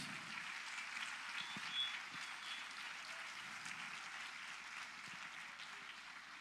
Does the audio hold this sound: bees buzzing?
no